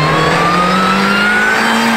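A Mini Cooper R53 with a supercharged engine revs up close and loud, its steady droning pitch climbing smoothly and continuously with no voices.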